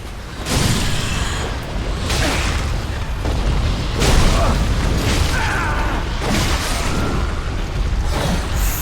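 A magic damage spell cast in Dark Souls III, a run of loud booming bursts and whooshes that repeat roughly every second or so over a dense rumbling bed of combat noise, close and heavy, no words spoken.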